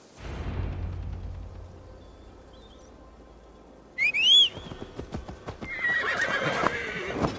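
A horse in Assassin's Creed Valhalla gallops with fading hoof clatter, then lets out a loud, close whinny followed by snorts and renewed hoofbeats, with faint whistling at the end.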